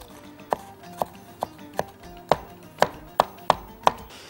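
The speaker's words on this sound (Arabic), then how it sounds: "نفرم كده التوم" Garlic is chopped with a knife on a cutting board, about nine crisp, evenly spaced knocks close to the ear over a quiet background.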